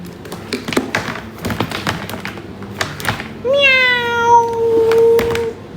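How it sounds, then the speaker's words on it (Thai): A cat gives one clear, drawn-out meow up close after a run of taps and thumps, and people are also heard in the room. "เสียงอะไรคะแมวใช่ไหม"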